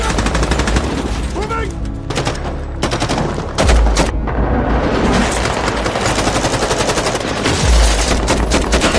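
Sustained heavy gunfire in a movie shootout, dense bursts of automatic weapons overlapping with single shots and occasional louder booms, with a few voices shouting underneath.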